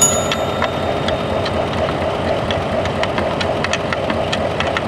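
A vehicle engine keeps running with the key off and removed, idling in a steady, close mechanical hum with a faint regular ticking knock and no voices.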